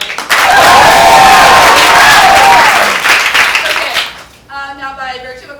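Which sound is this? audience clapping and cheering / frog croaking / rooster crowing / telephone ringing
audience clapping and cheering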